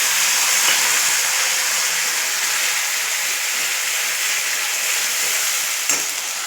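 Bengali home cooking: ground paste of cumin, chili and onion dropped into hot mustard oil with kalo jeere, giving a steady, loud broadband sizzle that hisses continuously throughout with no talking.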